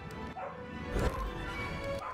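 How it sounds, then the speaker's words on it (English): A dog gives a short bark or yelp within a few seconds of muffled background sound, moderately clear rather than loud. "That dog's barking or something."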